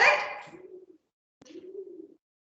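A pigeon coos inside a classroom, two low rounded calls with a short gap between them, close by, following a brief burst of other noise at the start.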